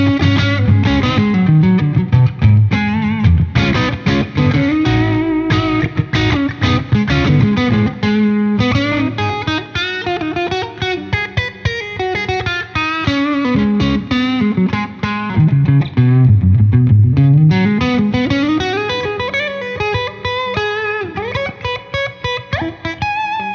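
A Fender Player Series Stratocaster electric guitar plays through effects, giving a distorted, reverberant, chorused tone with a dense continuous riff, loud and up close for over twenty seconds.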